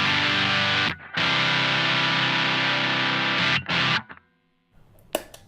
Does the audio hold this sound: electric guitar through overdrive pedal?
yes